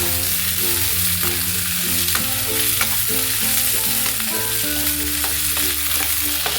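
Ivy gourd (kovakkai) frying in a pan, a continuous close sizzle with light stirring taps, overlaid by steady background music tones.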